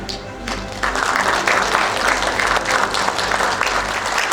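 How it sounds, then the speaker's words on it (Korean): Audience applause at a government award ceremony in a large conference hall, a full, steady wash of clapping that swells after a quieter start and continues throughout. "다시 한번 차세대 지방재정 관리 시스템 개통을 위해 노력해주신 여러분께 큰 격려의 박수 부탁드리겠습니다"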